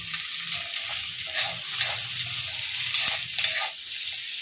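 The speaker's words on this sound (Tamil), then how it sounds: "இது கூட இப்போ வந்து கருவேப்பிலை போட்டுக்கலாம்." Curry leaves go into a pan of frying potatoes, setting off a close bright sizzle while a spoon stirs and scrapes in repeated strokes, with no voices.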